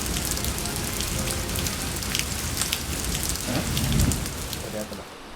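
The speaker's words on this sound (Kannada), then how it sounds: "ಹೆವಿ ಮಳೆ ಸ್ಟಾರ್ಟ್ ಆಗೈತಿ." Heavy rain pours down steadily in Wayanad, Kerala, drumming hard on a nearby surface with a dense, continuous hiss throughout.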